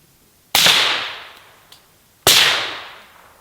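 Suppressed rifle shots fired while comparing a PTR Vent 3 and a Radical Defense LS 5: two sharp, loud reports about 1.7 seconds apart, each trailing off in a long decaying echo, with a faint click between them.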